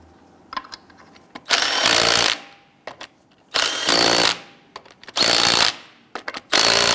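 A power tool snugs the lug nuts on a Jeep Grand Cherokee wheel in four loud, near bursts of one to two seconds each, separated by quieter clicks and handling noise.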